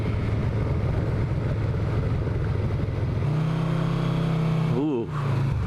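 A 1986 Yamaha V Max motorcycle engine revs loudly and close, with a steady low drone that rises in pitch toward the end, then dips briefly before continuing.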